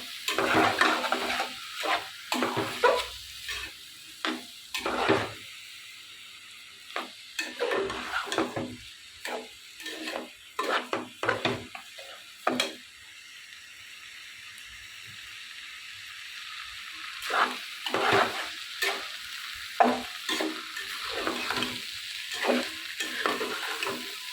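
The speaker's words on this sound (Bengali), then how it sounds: "চালটা বেজে নিই একটু বেজে নিলে গান হয়" Rice is dry-roasted in a pan with lentils, giving a soft hiss broken by repeated scraping stir strokes in irregular bursts, close and fairly quiet, with no talk.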